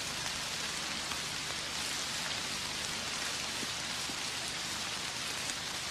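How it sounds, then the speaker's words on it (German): Steady rain falls in a forest, a soft, continuous patter and hiss of drops on leaves and ground, faint and unbroken, with no voices. "Es regnet und ich habe keinen Schirm mit."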